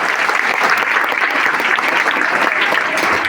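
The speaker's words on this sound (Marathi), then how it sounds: "त्यांच्यासाठी टाळ्या वाजवा" Students at an educational guidance event marking a library's opening in Manpadale applaud classmates who answered questions. The clapping is lively and continuous, a steady wash of many hands in a room.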